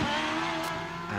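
A 3.3-litre Cosworth-engined hillclimb race car at Wiscombe Park accelerating hard, its high-revving engine a loud, close, continuous howl with no talk over it.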